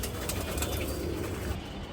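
Pigeons of coloured fancy breeds cooing softly in a home loft, a steady low murmur of overlapping coos running throughout with no talk.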